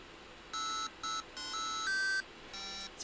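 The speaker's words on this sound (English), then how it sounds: "it can play things on brushless DC motors" A hoverboard brushless DC motor driven as a jukebox plays a short tune of pure electronic tones, several steady notes of differing pitch stepping one after another with small gaps, fairly quiet over a faint background hiss.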